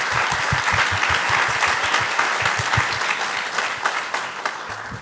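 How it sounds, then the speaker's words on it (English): Audience applause at a sustainable-technology startup event, a dense sustained clapping from a seated crowd that stays loud and steady throughout, tapering slightly toward the end with no talk over it. "Please give them a big round of applause for their vision and dedication to building a better future."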